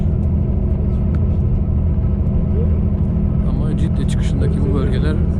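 Steady loud engine and road rumble inside a bus travelling on a highway toward Mecca, continuous and close, with voices speaking faintly in the cabin.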